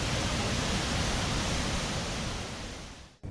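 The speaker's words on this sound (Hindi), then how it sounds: "यहाँ झरने का पानी लगभग 100 फीट की ऊंचाई से गिरता है।" A waterfall plunging about 100 feet at Siddhnath Dari, a broad continuous roar of falling water, loud and steady, fading slightly before stopping abruptly.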